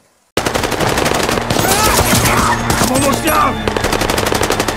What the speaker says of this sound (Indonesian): kelompok Taliban yang masih terus menghujanin mereka dengan tembakan